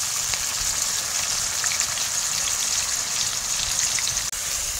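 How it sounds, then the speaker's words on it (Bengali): Onions frying in a hot pan for a Bengali-style paneer curry, a steady dense hiss and crackle of sizzling oil, close and even throughout with a single brief click near the end. "কড়া গরম হয়ে গেছে, পেঁয়াজ তুলে দিচ্ছি।"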